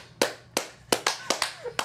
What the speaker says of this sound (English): Please give him a round of applause right now